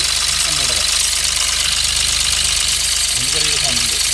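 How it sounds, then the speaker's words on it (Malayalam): A used Mahindra engine idles steadily and close, its even rumble carrying a faint, light ringing from a turbo valve lever, with someone talking over it. "ചെറിയ മണിയടി സൗണ്ട് വരുന്നില്ലേ, അത് ഇവിടെ ഒരു ലിവറുണ്ട്"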